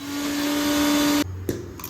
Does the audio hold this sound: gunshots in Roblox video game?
no